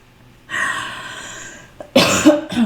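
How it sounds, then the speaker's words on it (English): A person coughs close up: a long raspy breathy exhale, then a couple of harsh, forceful coughs in quick succession. "So there's still lots of coughing."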